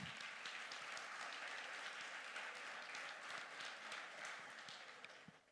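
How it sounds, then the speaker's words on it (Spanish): A church congregation applauds during a sermon, dense sustained clapping that holds steady before tapering off at the end. "Denle un aplauso al Señor"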